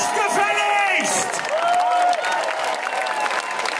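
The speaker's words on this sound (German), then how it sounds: "Das ist ein nettiger Applaus" Audience at an open-air rock concert at Spandau Zitadelle, a broad wash of crowd clapping and cheering with whoops, heard at a distance alongside voices over a sound system and stray melodic tones.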